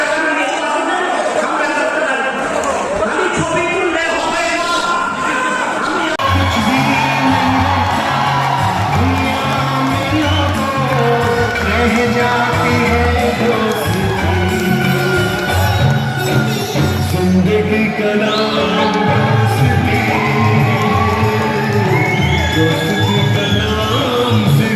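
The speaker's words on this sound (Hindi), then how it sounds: "वहीं उन्हें देखने के लिए अच्छी खासी लोगों की भीड़ जुटी थी।" A large crowd at a politician's rally in Burnpur cheers, whoops and shouts loudly and continuously, with an amplified voice and music-like rhythmic sound rising over the din.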